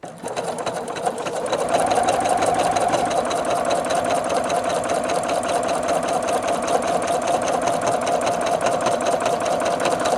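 A Singer Futura XL 550 sewing machine stitches through four layers of faux leather, its steady mechanical whir and rapid needle clatter running continuously and close for about ten seconds after a brief start-up.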